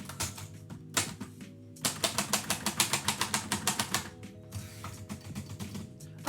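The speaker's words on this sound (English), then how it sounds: "I love this typewriter" A 1949 Royal Quiet Deluxe manual typewriter clatters with rapid keystrikes in bursts, a steady run of crisp clacks with brief pauses and mechanical clunks between, close and loud with no talking.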